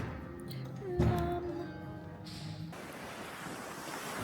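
Sea waves wash onto a beach near Abu Dhabi as a steady surf roar, with a gusty wind rumbling across the microphone and a brief louder burst early on.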